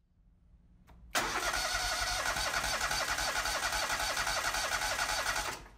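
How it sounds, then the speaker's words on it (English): A Kohler engine cranks and catches during a fuel pump module test, a faint click followed by a sudden loud, steady mechanical roar that runs for several seconds and then cuts off abruptly. "Reconnect the fuel pump connector and crank the engine."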